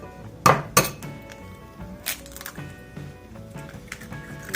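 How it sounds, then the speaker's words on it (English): A spoon beats an egg with crumbled shell into coffee grounds in a small bowl for Scandinavian egg coffee, giving two sharp clinks against the bowl and then lighter scattered taps and scraping. "And we're gonna beat the shell in here."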